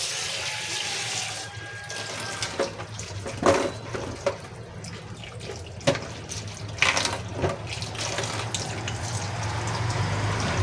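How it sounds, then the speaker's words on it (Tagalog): Vegetables for pork asado are rinsed under a running kitchen tap, with a steady rush of water and intermittent splashes and clatters as they are handled, close and continuous with no talking. "Hugas-hugas din po para po bago po natin balatan ay malinis."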